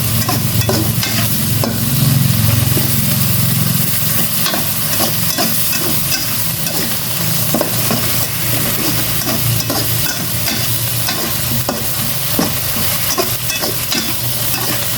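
Pork and mushrooms stir-fried in a pan with a splash of fish sauce, a loud continuous sizzle with constant scraping and tossing of a spatula, close and without talk.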